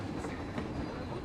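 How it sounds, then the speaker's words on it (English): A ride train rolls along in the Planet Coaster park-building game, giving a steady, fairly quiet rumble with a faint clickety-clack of wheels on track and no voices. "Nice, gentle train ride."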